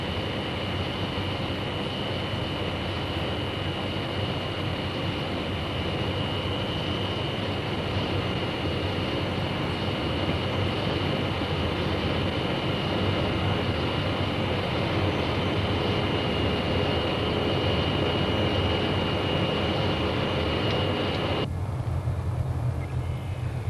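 A steady, loud engine and airflow drone fills the cabin of an airliner on an international flight with its flaps extended, continuing unbroken before the upper hiss drops away near the end.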